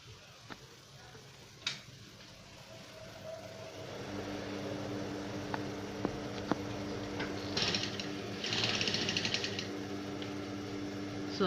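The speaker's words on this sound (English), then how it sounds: "So I've started sewing." A sewing machine stitches the seam of a basic skirt, its steady mechanical running hum starting partway through, with faint ticking and clicking of the mechanism up close.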